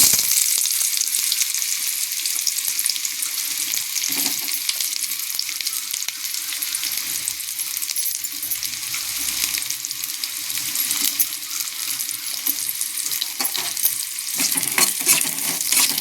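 Onions sauté in a little hot oil for kara chutney, a continuous bright sizzle and crackle with occasional stirring scrapes and clinks of a utensil against the pan.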